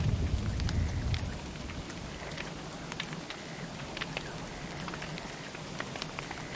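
Rain falling in the survival game Don't Starve Together, a steady patter of drops on surfaces with a deeper rumble in the first second before settling into even hiss.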